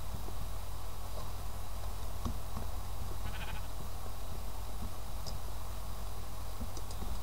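A sheep in the Minecraft video game bleats several times, short nasal calls spread over a steady low background hum.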